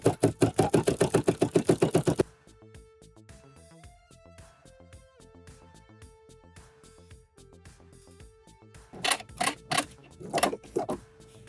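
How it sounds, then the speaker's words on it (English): A sewing machine stitches a line across quilting fabric, opening with a fast, loud burst of rhythmic needle strokes, then easing into quieter mechanical clicks before another run of stitching near the end. "For the first row of stitches, I want you to stitch down the line that you drew on your fabric."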